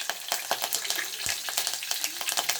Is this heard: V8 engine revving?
no